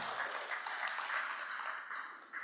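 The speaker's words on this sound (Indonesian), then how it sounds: "Tepuk tangan untuk kita semua" Audience at a public climate-commitment communication forum applauding, a dense, even wash of clapping that holds steady for a couple of seconds.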